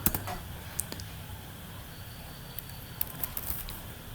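Someone types a command on a computer keyboard with a few soft, scattered key clicks over a quiet background hiss. The taps are sparse and fairly faint, and nobody talks.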